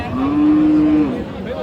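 A cow at a beef cattle market in Aftabganj, Dinajpur, lets out one long, steady, low moo lasting about a second, loud and close, then a brief lower trailing note.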